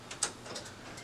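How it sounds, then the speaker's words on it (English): An HP CM6040 office printer powers down, giving a few light mechanical ticks and clicks spaced irregularly over a faint background hum. "Wait for the machine to fully power down."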